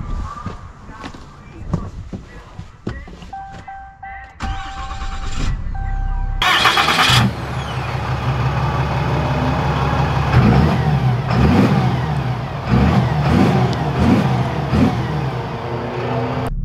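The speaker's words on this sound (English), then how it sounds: "let's take this 2500 Megacab out and see how she drives" A 2021 Ram 2500 Laramie Mega Cab pickup starts up with a sudden loud engine roar, then settles into a steady running drone as it drives off, with revving swells and some faint clicks and beeps before the start.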